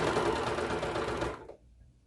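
A domestic sewing machine stitching knit fabric for a child's romper: a fast, steady mechanical whir close up for over a second, then cutting off abruptly into near silence.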